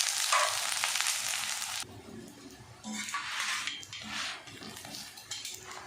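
Radish-stuffed paratha cooks in ghee on a hot pan, a steady bright sizzle that cuts off after about two seconds, then returns in softer bursts as the bread is pressed down, with light pan clatter.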